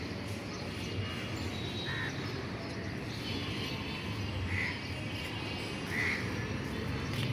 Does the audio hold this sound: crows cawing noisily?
yes